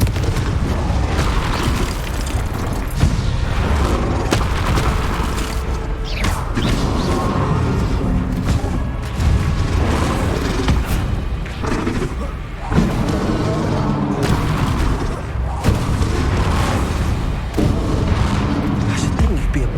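Blasting spells in the Hogwarts Legacy video game: a busy run of repeated booming explosions and crashes amid clattering game effects, with voices speaking over the action.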